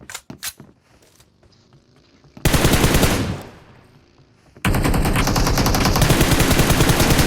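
Loud automatic gunfire from the mobile battle-royale game PUBG Mobile, first a few scattered shots, then two long sustained bursts of rapid fire that dominate the sound.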